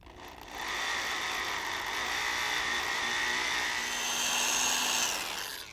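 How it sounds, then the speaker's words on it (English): A drill bores a pilot hole down the center of a broken bolt during a small block Ford swap into a '66 Bronco, giving a steady, close, high whirring grind that holds for about five seconds. "Now drill a pilot hole down the center of the bolt."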